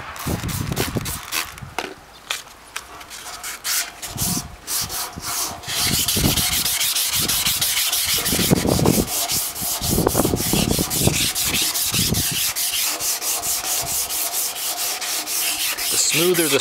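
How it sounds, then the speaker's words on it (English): A satellite dish is wet sanded by hand with 800 grit sandpaper, giving close, continuous rhythmic rubbing strokes with some louder scrapes, sometimes brief and sometimes long and steady. "I want to make the dish surface as smooth as possible, so I'm going to do that with this 800 grit sandpaper, and I will wet sand it"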